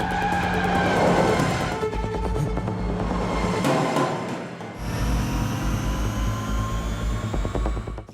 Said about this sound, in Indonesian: Tanpa pikir panjang, Jaidev tancap gas sambil terus menahan rasa sakit.